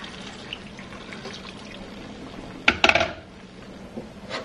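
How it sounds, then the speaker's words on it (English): Water is poured into a pot of potatoes on a stove, a brief splashing clatter near the middle after quiet kitchen background, then it settles back to low noise. "I'm gonna add just a little bit of more water so the potato could cook."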